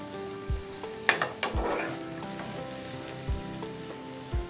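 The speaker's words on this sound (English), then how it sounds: "and spring onion. You can also take a normal onions. We'll saute for a few minutes." Spring onion and garlic sauteing in a pan give a steady low sizzle, broken by a few soft knocks and scrapes as a spoon stirs them, close and moderately loud.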